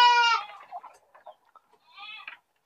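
Goats bleat on a goat farm where young goats of five to seven months are raised, with one loud bleat near the start and a second fainter call after a stretch of low scattered sounds.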